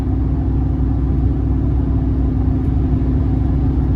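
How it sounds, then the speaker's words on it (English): A 2004 Chevrolet Silverado single cab with a 4.8-liter V8 and aftermarket exhaust rumbles steadily and close by. Its deep, even engine drone holds without breaks or voices for about four seconds. "just the right amount of sound from the engine and the exhaust"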